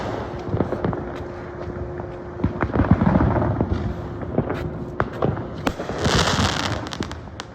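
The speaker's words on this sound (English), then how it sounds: "That's the biggest firework I've ever seen." Fireworks pop and bang repeatedly, sharp bursts at irregular intervals with a louder crackling flurry near the end, no talking.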